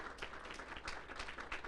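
A small dinner audience in a classroom converted for a cardiac survivor evening claps steadily, a faint, thin patter of many hands with no voices over it.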